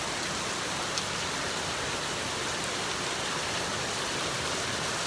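Pouring tropical rain in Ghana, a dense, steady roar of heavy downpour filling buckets, loud and unbroken throughout with no voices.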